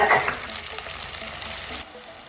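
Chopped onions hitting a hot pan with cumin and coriander seeds, a sharp burst of sizzling that settles into steady frying crackle, close and alone, then drops off near the end.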